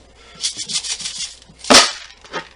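Tumbled coins from a Harbor Freight rotary rock tumbler scrape and rattle as they slide out, ending in one loud metallic clatter as they land in a small pan.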